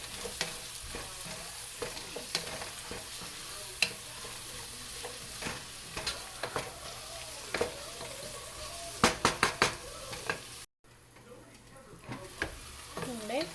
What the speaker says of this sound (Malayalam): കുറച്ച് ക്യാരറ്റും ബീൻസും കൂടെ കട്ട് ചെയ്ത് വെച്ചേക്കുന്നത് ആഡ് ചെയ്ത് കൊടുക്കാം.